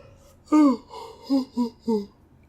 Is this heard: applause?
no